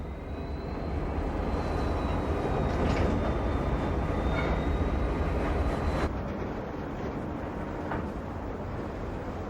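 A freight train rounding a curve rumbles steadily for the whole stretch, with a faint high wheel squeal drifting in and out as it rolls along, moderately distant.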